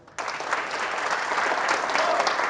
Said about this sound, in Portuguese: Eu vou pedir para vocês, não é para o hino, uma salva de palmas.